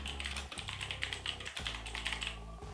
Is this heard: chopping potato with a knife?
no